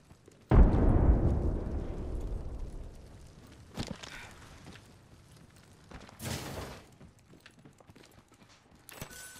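A frag grenade going off in Apex Legends: one heavy boom that rolls out and fades over a couple of seconds, followed by scattered small knocks and shuffles.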